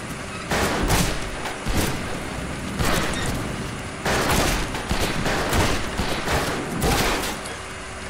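Dense, loud bursts of shotgun fire in a 3v3 multiplayer video game match, with several heavy blasts and rattling volleys overlapping in quick succession throughout.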